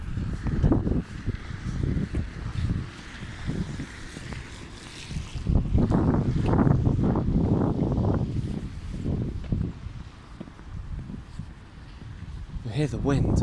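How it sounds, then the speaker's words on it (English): Strong wind gusts roar through wet woods, a continuous loud low rush buffeting the microphone, with someone talking over it throughout. "You hear the wind."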